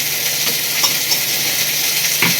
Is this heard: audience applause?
no